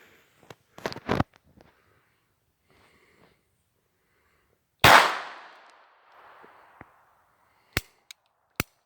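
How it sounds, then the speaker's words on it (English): A Taurus PT22 .22lr pocket pistol firing: a few sharp, dry cracks spaced apart, with one louder, ringing shot in the middle, close and otherwise quiet. "this guy's gonna fire all 9 rounds without jamming"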